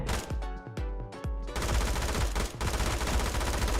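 A new 50-round gun fires in PUBG Mobile: a few spaced single shots, then a sustained rapid automatic burst, loud and close with no talk.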